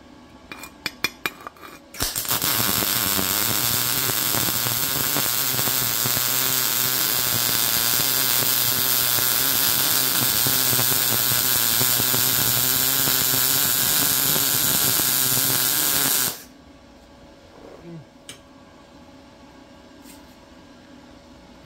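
A Yeswelder Mig205ds Pro MIG welder laying a bead, a steady loud crackling and sizzling buzz that starts abruptly, holds for about fourteen seconds and cuts off cleanly, with faint clicks before and after.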